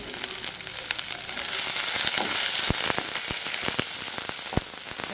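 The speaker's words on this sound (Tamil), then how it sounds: "இப்போ நாங்கள் தாளிக்க போகிறோம்." Onions, chillies and curry leaves sizzle and crackle in hot oil, with sharp pops and spatters scattered over a steady hiss.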